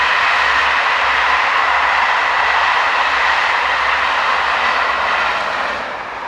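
Passenger train on the Brussels to Paris service rushes past nearby, a loud, steady roar of rolling stock that holds evenly and fades slightly at the end.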